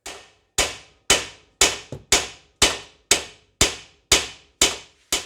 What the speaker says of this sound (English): I'm going to shock the area with the hammer and just hit it on the side here